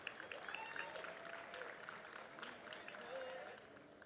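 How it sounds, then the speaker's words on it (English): Steady audience applause as educational leaders walk out on stage, a dense wash of clapping sustained for about four seconds with crowd murmur and cheers mixed in. "Can you please give a big round of applause to some of our amazing educational leaders?"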